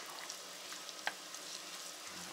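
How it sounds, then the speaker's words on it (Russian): Brisket frying in a pan, a soft, steady sizzle heard fairly faintly and close, with one small tap partway through and no voices. "Обжарить как следует эту прелестную грудинку"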